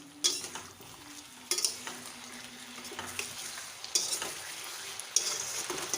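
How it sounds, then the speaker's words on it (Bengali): Katla fish with cumin sautéing in a pan, a steady close sizzle broken by several sharp scraping stirs of a spatula at regular intervals, with no voices. "আবার কিছুক্ষণ ভালো করে কষিয়ে নেব।"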